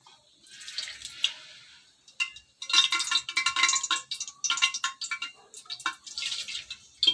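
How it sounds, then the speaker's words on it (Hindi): About half a quarter-kilo of ghee poured into a cooking pot for mutton masala gravy, giving soft, irregular splashes and bubbling crackles, close and fairly quiet, in bursts with short pauses. "आधा पाव के करीब घी डालेंगे।"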